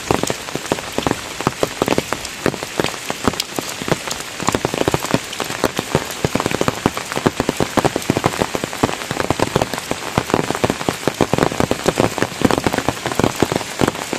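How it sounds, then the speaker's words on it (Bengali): Heavy rain pours steadily onto a muddy village road and open water, a dense, continuous hiss of drops striking surfaces, loud and close, with no voices. "কিন্তু এত বৃষ্টি, পানি,"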